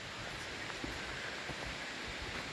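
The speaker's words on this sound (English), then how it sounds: "Got this little creek here." A small forest creek at Ricketts Glen State Park, running full after a night of heavy rain, gives off a steady, even rush of water with no pauses and no voices.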